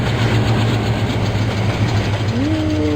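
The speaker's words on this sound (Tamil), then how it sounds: "அது சிவகங்கையில் இருந்து ராமேஸ்வரம் வரை செல்லும் ஹிஸ்டாரிக்கல் டவுன் எக்ஸ்பிரஸ் நயமேடை 2க்கு வந்து கொண்டு இருக்கிறது" Game train in Trainz Simulator, a Historical Town Express on the Sivaganga–Rameswaram route, pulls into a platform, giving a steady loud low engine drone with a rising whistle-like tone near the end.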